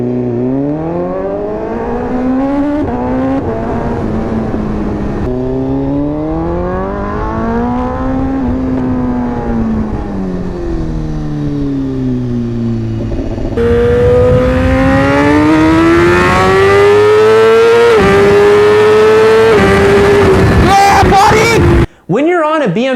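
A BMW S1000RR superbike engine revs hard and close, its pitch swooping up and down through several throttle blips before climbing to a high, sustained scream, with a voice speaking over part of it.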